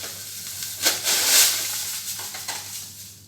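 Plum jam being stirred in a pot over low heat, a soft sizzling hiss with a few scraping stirs, close and moderately quiet with no voices.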